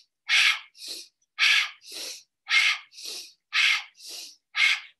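A person breathes audibly in a rhythmic pattern imitating a chugging train. Strong puffs alternate with softer ones, about nine close bursts in an even beat, with no speech.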